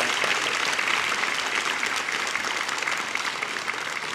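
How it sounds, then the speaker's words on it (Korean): A church congregation applauds the young adults during a special dawn revival service, a dense, steady wash of many hands clapping together at full strength from start to finish, with no talk over it. "우리 다시 한번 1청년들에게 큰 박수로 우리 격려하도록 하겠습니다."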